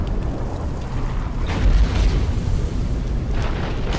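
A battleship blows up in the space strategy game Battlefleet Gothic Armada, heard as a dense, rumbling explosion roar that swells to a heavy low boom midway and then keeps churning steadily, with no talk over it.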